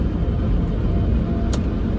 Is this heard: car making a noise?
yes